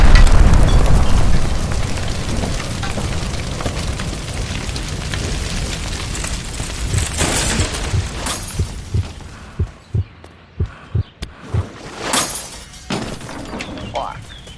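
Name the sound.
gas line shot and exploding in L.A. Noire video game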